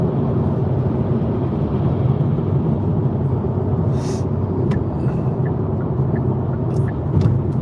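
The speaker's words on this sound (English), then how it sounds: "I'm doing 72, passing this truck that's probably right at 70" Steady broadband road and engine rumble of a car cruising at highway speed while overtaking a truck, continuous and loud, with a few faint brief clicks near the end.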